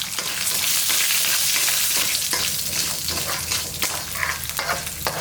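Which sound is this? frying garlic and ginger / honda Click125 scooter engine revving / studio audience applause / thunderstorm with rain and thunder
frying garlic and ginger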